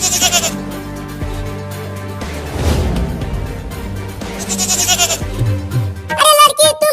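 A cartoon goat bleats over busy background music with a dramatic score, several wavering bleats repeating across the scene, loud and up front.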